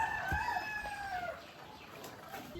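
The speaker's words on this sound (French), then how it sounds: "Regardez là, il y a plein de poulets dans le camion." A truck full of chickens at a market in Bali, a rooster crowing loudly up close with hens clucking around it.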